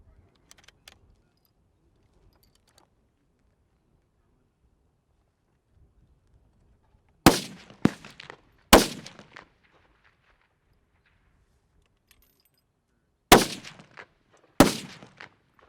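Rifle shots crack at an NRA mid-range match on a Marine Corps base firing line, four sharp reports in two pairs, each followed by a brief echo, with near silence between them.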